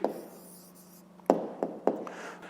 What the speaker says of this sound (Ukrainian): Ну що ж, тепер записуємо відповідь. Пишемо відповідь.